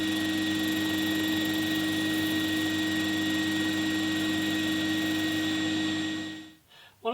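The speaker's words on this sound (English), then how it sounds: "One final drum sander operation. I'm just going to use it to take the bandsaw marks out of the braces." Drum sander running steadily as it smooths bandsaw marks off the back braces of a SuGar SG1 acoustic guitar, a loud continuous machine drone with a strong hum, cutting off abruptly near the end.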